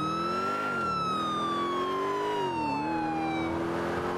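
A police car siren wails in the video game GTA 4, a steady sweeping electronic tone rising and falling slowly, fairly faint over a background hum, with no talking.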